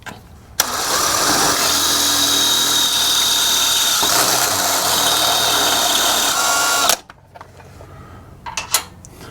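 A step bit drilling through a rear track bar brace on a Jeep JK, a loud sustained whirring drill run for about six seconds that cuts off abruptly, followed by quieter clanks and handling noise.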